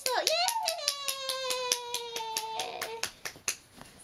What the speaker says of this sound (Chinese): 妹妹帮个弟弟拍手，拍手耶